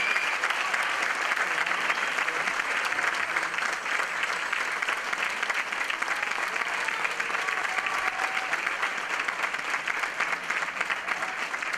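Audience applause at a cultural performance event, a loud continuous clapping from a crowd sustained evenly for around twelve seconds with no pause.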